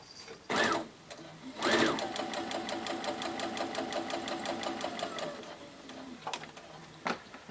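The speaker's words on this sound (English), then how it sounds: "I'm going to put these through the sewing machine" A sewing machine stitches pieced fabric squares for a leader-ender quilt in a steady, fast mechanical chatter lasting several seconds, close and moderately loud, framed by a few brief handling knocks before and after.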